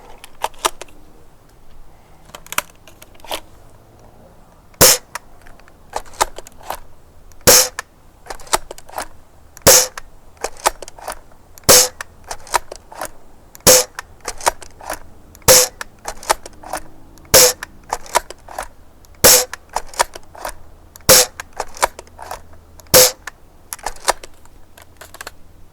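A Worker Prophecy foam dart blaster with new silver metal internals fires darts through a chronograph, sharp loud snapping shots at a steady pace of one every second or two, with softer clicks of priming and handling between them.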